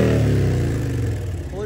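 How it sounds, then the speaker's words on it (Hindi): A BMW R 1250 GS Adventure Trophy Edition motorcycle fitted with a full-system exhaust revs up loudly nearby, a deep throbbing engine note that falls away and then rises again in a short burst. "फुल सिस्टम एग्जॉस्ट सुनो भाई"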